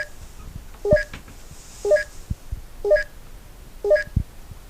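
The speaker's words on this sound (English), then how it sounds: "When the countdown is at 30 seconds, it will beep" Countdown timer on a gaming terminal giving four evenly spaced, clear electronic beeps about a second apart, each a short two-tone chirp, close and alone over a faint background hiss.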